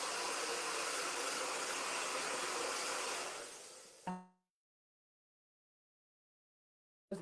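A hair dryer blows steadily for about four seconds while drying a painted Christmas angel made from wood offcuts, a loud even whoosh that cuts off abruptly into silence.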